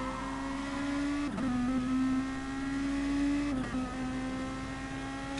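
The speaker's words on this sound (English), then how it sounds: "Listen to the car flat out." A Super DTM race car in GT Sport runs flat out near the rev limit at Bathurst, a steady loud high engine drone with two brief dips and pitch shifts as gears change.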